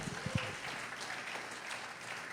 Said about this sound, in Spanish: Denle un aplauso al Rey de Reyes y Señor de Señores